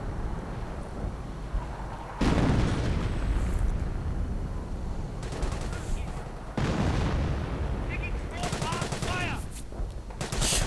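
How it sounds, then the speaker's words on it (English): Relentless WWII strategy game battle audio with heavy artillery and Calliope rocket barrages, booming explosions, and rattling gunfire that stays loud and dense throughout, punctuated by sharp blasts. "More artillery."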